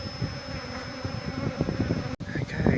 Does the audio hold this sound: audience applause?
no